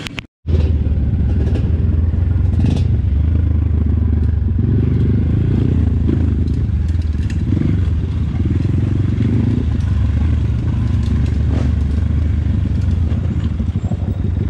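Kayo 300 dirt bike engine held at full revs in neutral, a loud, steady, close roar lasting the whole stretch after a brief click at the start, with no speech.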